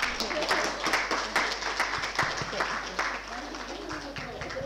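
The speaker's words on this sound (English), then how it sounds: "We can have a small clap." A panel session audience gives a short round of clapping to welcome the speakers, steady moderate applause from a seated crowd with some voices underneath.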